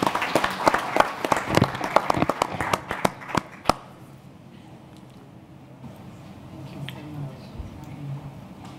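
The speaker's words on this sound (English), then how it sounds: "A round of applause for President Kaberuka," Audience applause greets a speaker called to the podium at a Kigali conference on green growth in Africa, a dense burst of clapping with sharp individual claps that dies away after about four seconds into quiet room tone.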